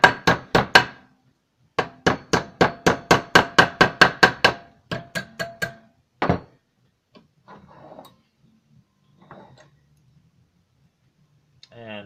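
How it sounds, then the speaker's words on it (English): Steady hammer blows on a stainless steel spoon clamped in a vise ring out in a fast, even series, then slow to a few scattered strikes with quiet gaps between. "So not only is the hammer moving it, the vise is pinching it tight too."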